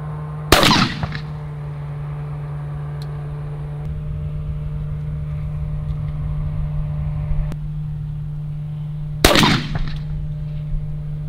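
Two loud, sharp shotgun blasts about nine seconds apart fire heavy bismuth 3-inch 6-shot shells through a Rob Roberts Raptor choke, each with a quick echoing decay over a steady low mechanical hum.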